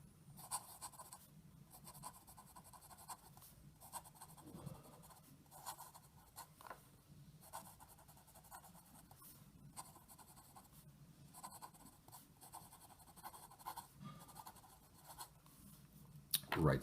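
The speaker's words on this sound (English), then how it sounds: "We'll do a little writing sample." A Montegrappa NeroUno fountain pen with a fine nib writes on paper, giving faint, close, continuous scratchy strokes with short pauses between words, steady for the whole stretch.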